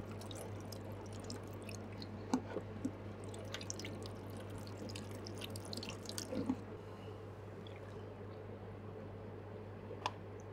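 Purified water is pushed by syringe through a Berkey carbon filter, heard as soft scattered drips, squishes and small ticks over a steady low hum, quiet and close.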